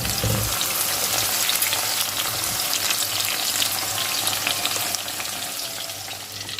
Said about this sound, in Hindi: भिंडी हमारी फ्राई हो चुकी है